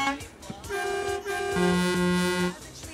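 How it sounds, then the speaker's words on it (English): A truck horn in the Euro Truck Simulator game blares in several honks, close and loud, ending in a long sustained blast, with faint talk around it. "Honk for honk."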